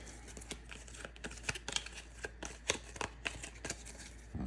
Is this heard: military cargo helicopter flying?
no